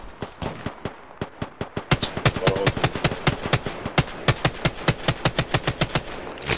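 Automatic weapon fire in the game Apex Legends, sharp rapid bursts: a spaced string of shots, then a faster, louder sustained volley of evenly timed rounds, close and dominant.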